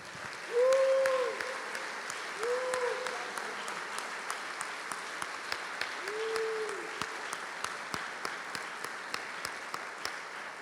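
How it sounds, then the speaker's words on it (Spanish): A church congregation applauds in a loud burst that settles into steady rhythmic clapping, with a voice calling out briefly a few times above it. "Un fuerte aplauso para el Señor."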